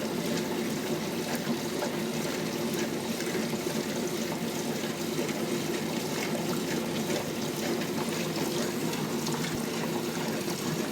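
Water pours into soaked rice-flake batter for aval dosa, a steady soft trickle and splash continuing evenly for about eleven seconds in a quiet kitchen.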